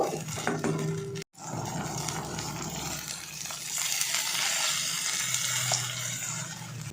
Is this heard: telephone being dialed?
no